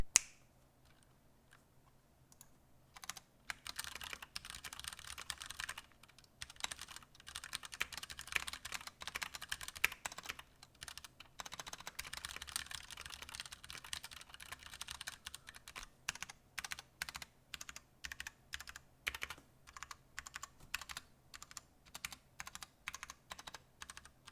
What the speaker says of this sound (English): It just sounds smooth when I type on it.